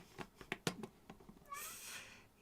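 A house cat meows several times in quick, chatty succession, fairly close, followed by a soft rustling shuffle, with no voices.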